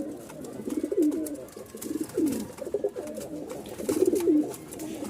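Bashiraj cock pigeons, two pairs of Rajshahi Giribaz birds, coo repeatedly in thin, rolling calls. The coos come in several close, steady bursts with no talking.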